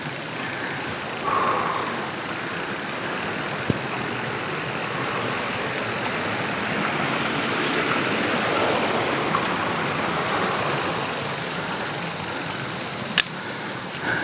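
Continuous rushing water of a river in Nasugbu, Philippines, a broad even wash flowing nearby, steady and fairly loud, with a couple of faint clicks and no talking.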